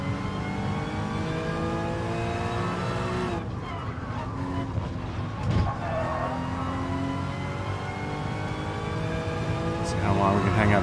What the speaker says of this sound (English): Mikey downshifts a little bit.